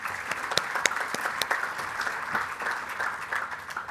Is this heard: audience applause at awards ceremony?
yes